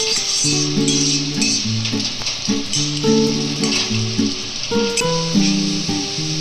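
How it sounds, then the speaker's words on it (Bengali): Stingray fish curry masala sautéing in oil in a pan, a steady close sizzle and fry with stirring, the spices being cooked down with a splash of water, loud and continuous throughout with no voices. "ভালো করে কষাতে থাকবে এবং হালকা জল দিয়ে দেবো দিয়ে মশলাটা কষাতে থাকবে"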